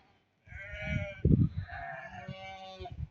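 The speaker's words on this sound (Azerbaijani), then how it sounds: "Qəşəng quzuları var." Lambs bleat close by in a few overlapping, wavering calls over about two and a half seconds, with one louder, harsher cry in the middle.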